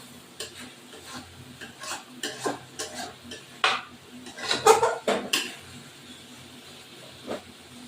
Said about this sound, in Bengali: এবার একটা মাংসটা কষাচ্ছি